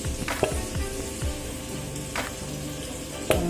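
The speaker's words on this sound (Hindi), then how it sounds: "ये लहसुन और अदरक डाल रही हूँ, प्याज डाल दे रही हूँ" Steady sizzling of garlic, ginger and onion frying in a hot pan, with occasional clinks and stirring scrapes, close and continuous.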